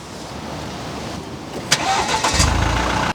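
A Mercedes C200d diesel engine cranks briefly and catches, settling into a low, rumbling idle up close.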